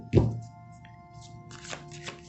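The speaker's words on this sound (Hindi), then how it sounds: "तो मैं आपके कार्ड्स जो हैं उन्हें शफल कर लेता हूँ।" Tarot cards shuffled by hand during a Hindi card reading, with one sharp riffle at the start followed by softer, fainter rustles and a couple of light flicks, close and quiet with a steady hum underneath.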